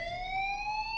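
School fire alarm ringing in the Life Is Strange video game, a loud, steady electronic tone sustained without a break, close and alone.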